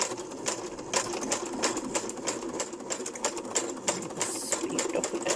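A sewing machine stitching through cardboard, running steadily at a rapid needle rhythm with a faint, somewhat distant whirring and a light mechanical clatter.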